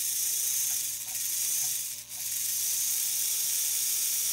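A prewar Gilbert HO Hudson toy train's freshly oiled electric motor runs steadily, a faint, even mechanical whir with a light repeating ratcheting tick, heard alone.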